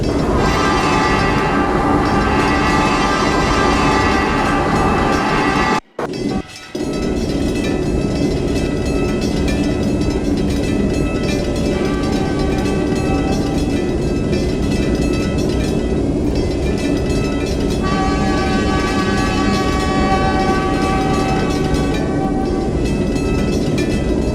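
An East Coast Shinkansen train in the Trainz simulator rumbles steadily at Virginia Beach Station, a loud continuous rolling drone with a brief cutout partway through and no talk.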